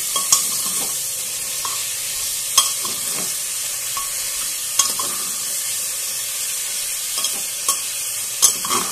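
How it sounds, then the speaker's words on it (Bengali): Chicken fries in a pan, a steady loud sizzle broken by occasional sharp clinks and scrapes of a spoon stirring, with no voices. "খুব ভালোভাবে একটু ভেজে নিচ্ছি।"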